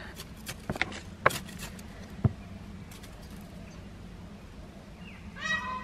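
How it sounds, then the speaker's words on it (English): A few loud, sharp bird calls ring out, honking and piercing, scattered over a quiet outdoor background, with a fainter trilling call near the end. "Wondering what that noise is, it's actually our resident peacock"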